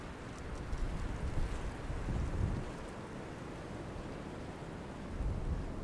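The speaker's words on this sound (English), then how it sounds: "Here comes a good gust." Strong wind gusts of roughly 35 to 40 mph buffeting around a 43-foot antenna mast, a low, rumbling roar against the microphone that swells and eases in waves, with no voices.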